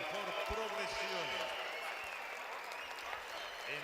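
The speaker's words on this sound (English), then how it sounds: "A round of applause, please" An audience applauds the Italian team at a Battle of the Nations competition ceremony, a steady wash of clapping with a few low thumps and voices near the start.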